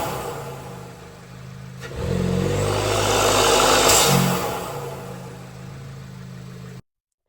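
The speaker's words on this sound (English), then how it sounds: "Up first on this list, we got the integrated engineering cold air intake." An Audi A3 fitted with an Integrated Engineering cold air intake revs up from idle, swelling to a loud throaty peak and easing back down, heard up close with no speech.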